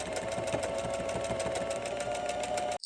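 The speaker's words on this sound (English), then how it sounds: "Then we'll sew that with a straight stitch." Sewing machine running a straight stitch to join a gathered skirt to a bodice made from a thrifted bedsheet, a steady continuous whirring hum close up for nearly three seconds, stopping abruptly at the end.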